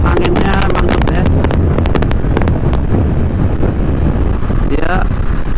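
Loud, continuous wind buffets the microphone as a BMW F900R motorcycle is ridden fast on a straight road. The engine is faint beneath the roar, with short bursts of talking near the start and end.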